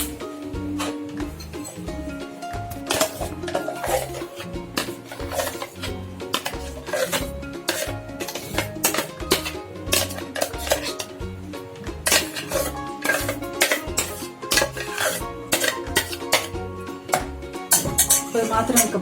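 Ground bottle gourd batter for crispy adai dosa is moved into another bowl, with steady clinks and scrapes of metal utensils against dishes throughout. A voice talks over the clatter.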